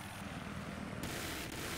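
Helicopter in Battlefield 3 on the Armored Shield map, a steady loud rotor and engine roar filling the brief moment alone, with no voices.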